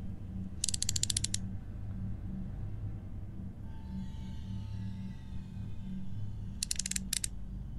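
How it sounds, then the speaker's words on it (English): Ratcheting clicks in the horror game Home Sweet Home: two short bursts of rapid, close mechanical clicking, separated by several seconds, over a low, steady rumbling ambience. "I still hear this clicking."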